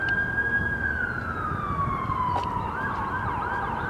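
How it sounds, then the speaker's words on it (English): An emergency vehicle siren wails loud and close, one sustained tone sliding slowly downward in pitch before rising again, with steady traffic noise beneath and no voices. "And the siren doing wow, wow, wow."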